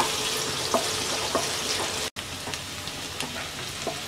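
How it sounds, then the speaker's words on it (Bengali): Two medium chopped onions frying lightly in hot oil, a bright continuous sizzle with soft pops and occasional stirring ticks, close up, briefly cut off midway, with no one speaking. "তেলটা গরম হয়ে গেছে, দিয়ে দিচ্ছি মিডিয়াম সাইজের 2টা পেঁয়াজ কুচি। পেঁয়াজটা হালকা ভেজে নেব"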